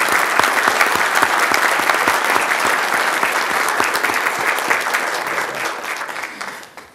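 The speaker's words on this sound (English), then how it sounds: "We can applaud." Audience applause for an award recipient at a county employee recognition awards ceremony, a steady full-room clapping that holds loud for several seconds, then begins to fade near the end.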